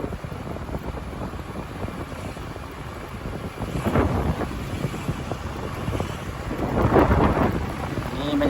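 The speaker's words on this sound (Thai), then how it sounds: "มื้อนี้นะน่าจะพายุเข้าคักแล้ว" Stormy outdoor weather in rural Laos before a storm arrives, with strong gusting wind roaring steadily over rain, swelling louder around the middle and again near the end; a faint rumble suggests thunder, and there is no talking.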